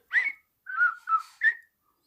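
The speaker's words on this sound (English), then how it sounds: "That was the Andy Griffith tune I was whistling" A person whistles a short four-note phrase of the Andy Griffith Show theme tune, each note clear and close with short gaps between them, and no other sound around it.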